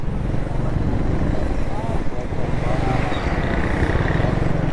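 Motorcycle riding across an underpass roof in a Karachi street market, a loud close engine drone that runs steadily throughout with broad road noise.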